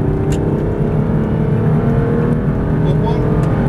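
An Aston Martin DB9 accelerates hard on a track, its engine note a loud steady roar that climbs and holds throughout, close and continuous.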